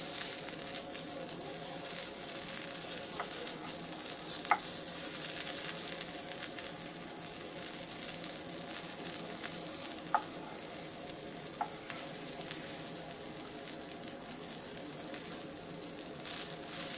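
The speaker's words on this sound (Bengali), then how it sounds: "বেগুনগুলোকে আমি এখন উল্টে দিচ্ছি।" Eggplant slices fry in a pan with a steady, close hiss of sizzling oil that runs without a break, dotted with a few light clinks as the pieces are turned.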